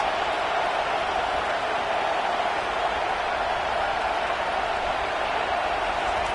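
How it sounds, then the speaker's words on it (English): A packed stadium crowd at a college football game roars continuously to back the defense, a dense, loud, unbroken wash of cheering with no clear talk on top. "Listen to this crowd just shaking the girders of this place, trying to help their defense."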